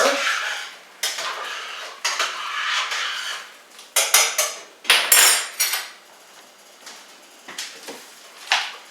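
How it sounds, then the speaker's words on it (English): A salad dressing with sugar is stirred in a bowl for a broccoli cheddar salad, a utensil clinking and scraping against the bowl in separate loud bursts, close by with short gaps. "Now let's give this another stir."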